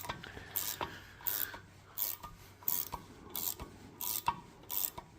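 A 7/16 inch wrench turning on a part while a knee assembly is taken apart, heard as a repeated rasping ratchet-like click and scrape in regular bursts, close and moderately quiet, with no talking.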